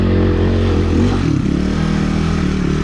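An XPulse 230 with a rally kit climbs a rocky trail in first gear, its engine droning loud and close with a steady low rumble, slight revving and faint clatter from the rough ground.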